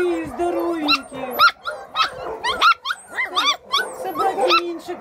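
Tiny newborn puppies found in cardboard boxes whimper and let out thin, high yips in a close, fast string of cries, with a soft voice murmuring faintly underneath.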